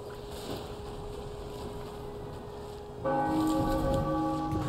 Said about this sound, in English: we just wait for the church bells to ring